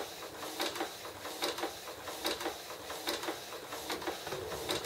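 A Canon inkjet printer's print head shuttles back and forth while printing, producing a quiet series of rhythmic mechanical sweeps and clicks with a steady whine underneath, heard close up without talk.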